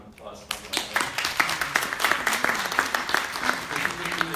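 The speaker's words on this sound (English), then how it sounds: "So I'd like to give them a round of applause for that." A university event audience breaks into applause that starts abruptly and settles into dense, sustained clapping from many hands, fairly loud, with crowd murmur beneath it.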